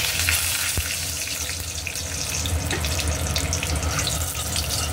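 Whole cumin seeds, a bay leaf and a green chilli crackle in hot oil for a Bengali banana flower curry, giving a loud, dense, steady sizzle close up with no talking.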